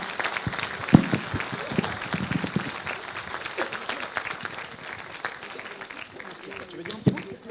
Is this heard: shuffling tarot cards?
no